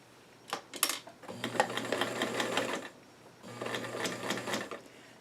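Sewing machine topstitching doll-size jeans in two short bursts of rapid, close needle clatter separated by a brief pause, after a couple of sharp handling clicks.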